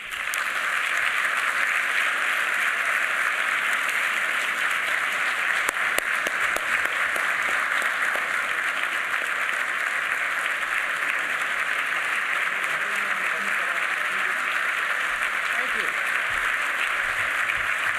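Sustained, dense applause from a large gala audience fills the room, steady and loud throughout as Chief Justice John Roberts is welcomed to the Legal Services Corporation 50th anniversary celebration.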